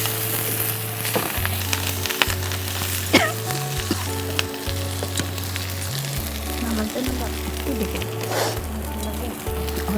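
Food frying in a pan on a stove, stirred, giving a continuous sizzle with occasional utensil scrapes and taps, a low hum running underneath throughout.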